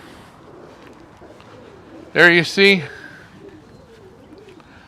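Pigeons in an aviary give two loud, close coos in quick succession against faint background cooing, while a person talks briefly.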